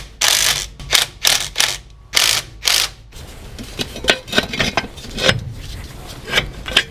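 A 3/4 wrench working loose the shock and U-bolt bolts on a Dana 44 axle, loud rhythmic ratcheting bursts followed by softer clicking and metal clinks, with no talking.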